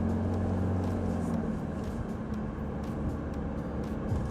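Steady low road and engine hum inside a 2017 Subaru Sport with a CVT transmission, driving at 30 mph, a constant moderate cabin drone with faint tonal whine and no talking.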